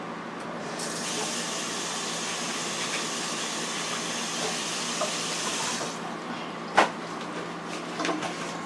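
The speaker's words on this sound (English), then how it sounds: "let me wash my hands and show you that" Kitchen tap water runs steadily while someone washes their hands after handling chicken wings coated in honey and seasonings, a continuous close hiss that stops near the end, followed by a sharp knock and small clatters.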